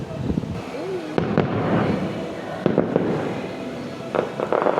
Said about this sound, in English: Found the fireworks, guys.